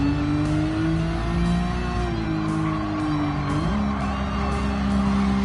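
Race cars in the Gran Turismo 7 video game roar in a steady, loud engine drone, with faint tire squeal and a pitch shift partway through as the revs climb.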